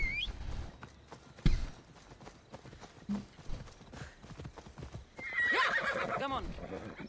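A horse in Assassin's Creed Odyssey is called up with a sharp whistle, then a few hoof clops follow, and a long, loud neigh comes near the end, with someone talking over the quieter parts.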